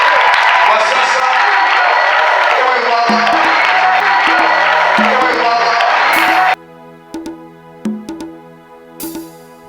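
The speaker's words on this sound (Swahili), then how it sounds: "tunakaribisha baba mchungaji kwa makofi na vigelegele" A church congregation applauds and ululates to welcome the pastor, a dense burst of clapping and cries for several seconds that cuts off abruptly into a sparse musical backing.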